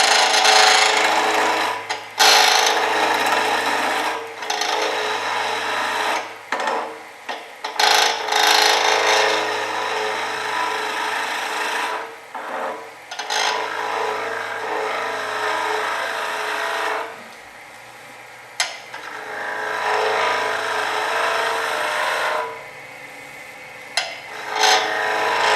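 A wooden block spins on a lathe at about 1600 RPM while a tool cuts it down for a Christmas ornament finial, giving a continuous rasping, scraping sound with short pauses between passes and a low motor hum beneath.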